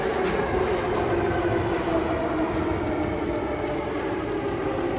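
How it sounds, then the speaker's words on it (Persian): A Warsaw metro train rumbles steadily and loudly throughout, a continuous broad roar of wheels and motors with no voices. "این هم متروی وارشاوا"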